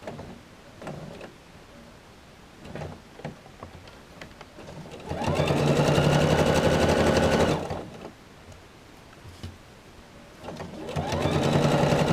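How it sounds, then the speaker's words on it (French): A sewing machine stitches a straight seam 10 mm from the fabric edge, running in two sustained loud whirring bursts separated by quiet pauses with soft handling clicks. "je vais coudre à 10 mm du bord en faisant bien sûr une marche arrière ou un point d'arrêt"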